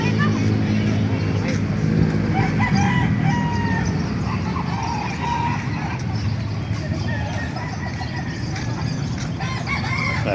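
Roosters crow and hens cluck amid a busy, noisy outdoor chicken market in Calumpit, with people talking nearby.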